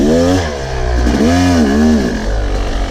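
A hard enduro motorcycle revs hard as it climbs over a root, its engine pitch swinging up and down in bursts with clattering underneath, loud and close.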